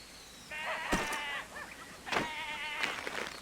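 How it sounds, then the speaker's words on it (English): Sheep bleat in the video game Tera, several wavering, harsh cries overlapping and repeating at close range, loud and steady with no talk over them. "Why am I hearing such aggressive baa?"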